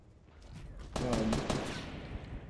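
Sniper gunfire in the video game Fortnite, heard as a burst of sharp, loud shots at close range over a low background rumble.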